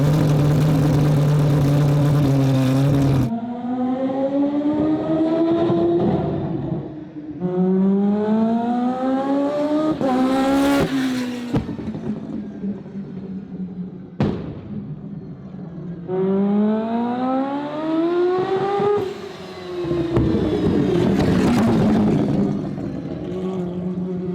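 Turbocharged car fitted with a Turbosmart wastegate driving around the block, its engine note rising and falling through several gear pulls and shifts, loud and close, with no talk.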